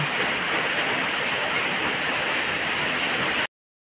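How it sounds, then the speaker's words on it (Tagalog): Typhoon rain falls steadily, a dense, even hiss of downpour that holds constant for several seconds before cutting off abruptly. "Umuulan pa rin dito sa amin."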